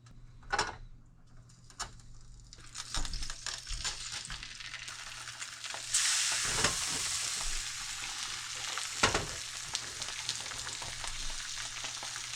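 Salmon lightly salted and frying in a couple of teaspoons of olive oil in a pan, giving a steady close sizzle with occasional louder pops and crackles and a few scrapes, no voices.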